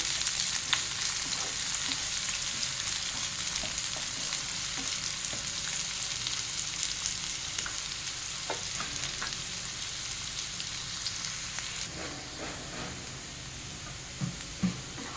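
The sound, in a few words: onions frying in oil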